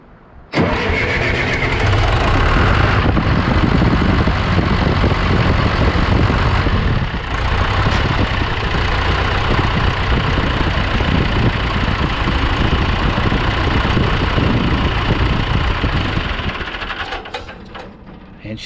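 A John Deere 480B diesel engine cranks and catches, then runs loud and steady at idle with a throaty rumble for over fifteen seconds before the sound tapers off near the end.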